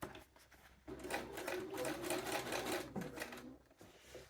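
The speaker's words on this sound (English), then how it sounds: "we're going to sew through the leg and the inset" A sewing machine topstitches through a trouser leg and its diamond hem inset, running in a steady close-up whir for about two seconds between brief pauses and handling clicks.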